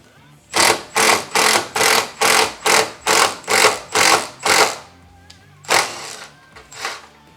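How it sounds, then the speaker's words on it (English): A rivet nut gun pressed down to install a rivet nut for a hood strut, a rapid series of about nine loud rhythmic whirring bursts, then a pause and two more bursts. "to install it, you're going to press down firmly with the gun"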